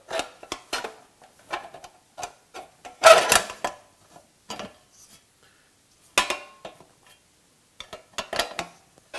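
Metal door plates are pushed back into a Bacon Express countertop cooker, giving a series of sharp metallic clanks and rattles at irregular intervals with quiet gaps, close by.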